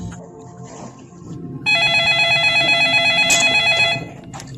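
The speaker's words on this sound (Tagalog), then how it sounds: "sinagot mo ba yung telepono?" A telephone rings loudly with a rapid trilling bell that starts abruptly and continues for a couple of seconds before stopping, over quiet background noise.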